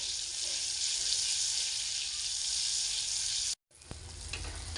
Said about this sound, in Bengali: বাটার ভালো করে গলিয়ে নেব।